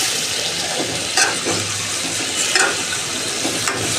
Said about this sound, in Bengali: মাছটা একটু কষিয়ে নিব।